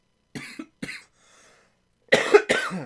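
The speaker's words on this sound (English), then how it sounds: "All this beer is making me cough." Two short coughs, a brief quiet pause, then two louder, harsher coughs close to the listener.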